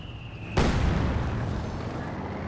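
A Panzer IV tank's main gun fires once in a strategy video game, a sudden loud boom with a long rumbling tail that fades slowly under continuing battle noise.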